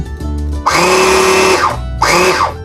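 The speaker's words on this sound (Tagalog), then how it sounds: "parang hirap na hirap tong blender na to na i-blend yung food" A blender whirs loudly up close in two bursts, its motor pitch straining and dropping as it churns thick baby food puree.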